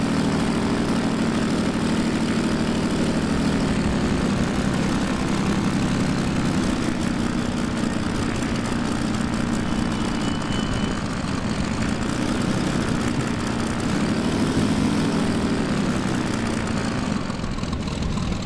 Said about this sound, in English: You can really listen to that beautiful engine